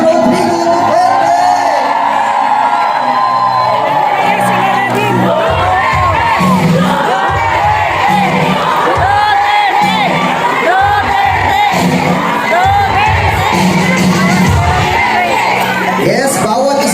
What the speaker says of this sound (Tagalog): Nakita ulit natin ang isang hiyaw ng pagpapasalamat sa ating nag-iisang Rodrigo Duterte!